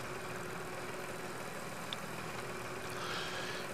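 In the farming video game Farm Expert 2017, a small tractor hauling a trailer runs with a steady, low engine drone. The hum stays even and continuous at moderate level with no talk over it.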